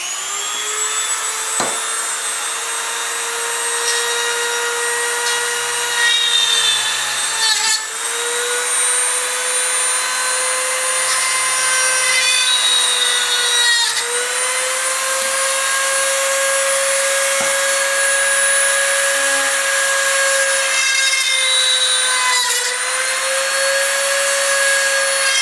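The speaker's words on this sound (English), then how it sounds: "So instead of using a drill, I'm going to use a Dremel." A Dremel rotary tool drills four holes with a continuous high-pitched motor whine, close and loud, its pitch dipping briefly a few times as the bit bites into the work, with no voices.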